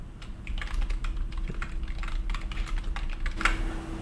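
Steady keystrokes on a computer keyboard as a prompt is typed into an image-generation plugin, a run of close, quick clicks with a soft hum beneath and no voices.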